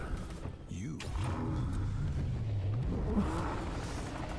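Car engines rev and whine in a video game teaser, with a rising and falling pitch sweeping across several seconds, sustained and fairly loud over a music bed.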